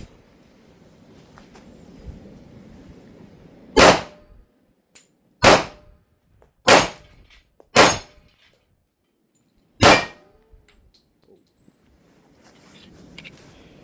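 Five loud, sharp shots from .45 caliber 1911 pistols, a 30-year-old Springfield and a new Tisas, fired at uneven intervals with quiet gaps and faint background noise between them.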